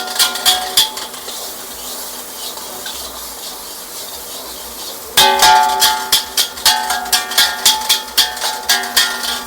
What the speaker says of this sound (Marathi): आवाज तुम्ही ऐकत असाल कढईचा